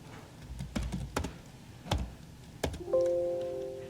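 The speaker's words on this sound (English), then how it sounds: "Now we're able to hit the arrow keys as quickly as we want with no penalty." Arrow keys on a computer keyboard click several times in quick, uneven taps, close and crisp, followed by a short electronic tone at the end.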